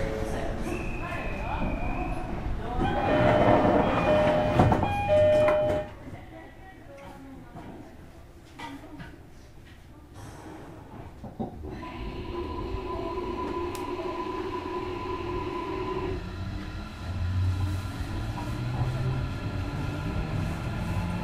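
A 305 series electric train on the Chikuzen-Maebaru to Akasaka run in Japan pulls away, heard from on board: door chimes and platform announcements give way to a low, steady rolling hum and motor whine as it gathers speed.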